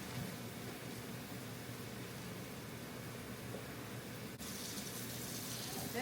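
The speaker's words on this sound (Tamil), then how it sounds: "நாங்கள் வடிக்கிறோம்." Boiled spaghetti water pours out steadily in a kitchen, a faint, continuous splashing rush that runs alone for several seconds with a slight shift near the end.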